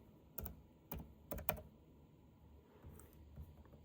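Quiet keystrokes on a computer keyboard: about four or five distinct taps in quick succession, followed by softer, scattered clicks in a hushed room.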